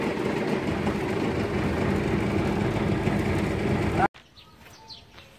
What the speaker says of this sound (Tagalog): Ito na yung makina natin, ka-brother. Ito na yung naka-exciting na sa ginawa natin, yung pagpapaandar.